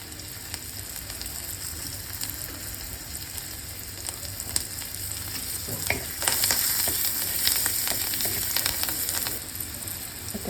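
Chopped garlic and chilli slices fry in a hot pan with a steady, dense sizzle and crackle that swells louder and sharper about halfway through, with scattered pops and stirring scrapes.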